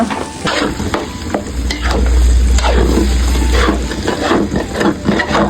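Water poured into a pan of simmering spaghetti sauce, a loud close sizzle with stirring and scraping in the pan, continuous for several seconds without any talking.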